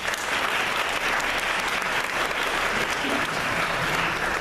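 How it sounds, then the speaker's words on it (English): Steady, dense applause from a large audience at a 2019 corporate kickoff event, sustained evenly for several seconds without a break. "Let's give these folks a round of applause."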